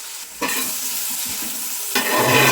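Beef roast is stirred in a pan, scraping and stirring over a bright, steady sizzle, with a couple of sharper bursts as the food is moved. It is close and fills the short moment without speech.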